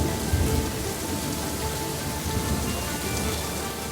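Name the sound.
heavy rain pouring in South Sudan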